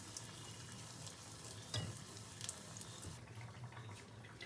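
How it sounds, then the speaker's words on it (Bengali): Adosha pitha, a Bengali winter sweet, frying in hot oil as the hot oil is spooned over it, giving a steady sizzling hiss with a few brief clinks and scrapes along the way. "পিঠেটা তেলে ছাড়ার সাথে সাথে তেলটাকে গরম তেলে এইভাবে পিঠের উপরে দিতে হয়"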